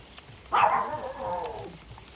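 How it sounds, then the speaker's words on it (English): A single drawn-out dog bark or yowl sounds from a moderate distance, fading into quiet background noise. "My dog keeps barking at I don't know what, it keeps barking at the sky"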